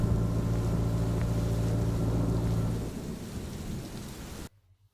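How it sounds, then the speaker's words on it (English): Heavy rain drums on a moored canal boat during a thunderstorm, a dense close roar with low thunder rumbling, easing partway through before cutting off abruptly. "with the rain settling in outside, we're calling it a day"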